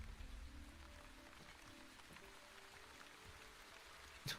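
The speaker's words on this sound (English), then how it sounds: "What was that? Rain." Soft steady rainfall in the village-building game The Wandering Village, a faint continuous patter with low gentle tones underneath and a brief sharper burst at the very end, no voices.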